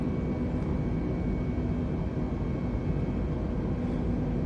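Airbus A320 engines in Microsoft Flight Simulator, throttled back while levelling out for a landing, give a steady, loud broadband jet roar with a low hum that runs unbroken throughout.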